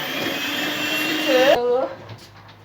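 An electric mixer whirs steadily as it blends batter with added vanilla in a home kitchen, its motor tone bending down briefly before it switches off, leaving quiet room sound.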